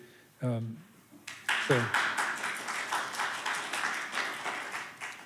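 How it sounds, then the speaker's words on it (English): A church congregation claps for board members standing at a Sunday interfaith service, a moderate burst of hand claps that swells after a brief voice and continues steadily, fairly close. "they deserve the applause"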